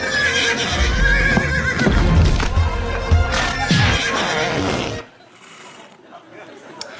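Horse neighing amid loud studio sound and crowd noise in a TV studio, followed by a quieter stretch with faint sounds.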